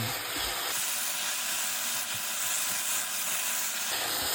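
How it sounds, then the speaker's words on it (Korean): Eggplant and perilla leaves sizzle in a hot pan while stir-frying, a steady close hiss of frying that runs continuously with a few faint clinks of utensils and no talk. "깻잎 넣고 나서는 정말 깻잎이 숨이 죽을 정도만 볶아주세요"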